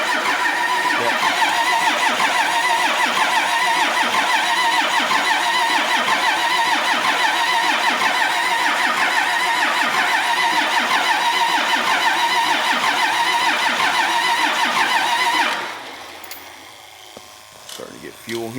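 A Cummins diesel engine that sat outside for nearly three and a half years cranks loudly and steadily with a rapid rhythmic churn for about fifteen seconds, then cuts off, leaving quieter scattered noises.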